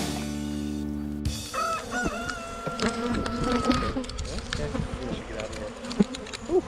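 Honeybees buzzing thickly around beehives on a farm, a dense close swarm drone that rises and falls, with scattered louder passes of individual bees and faint background bird calls.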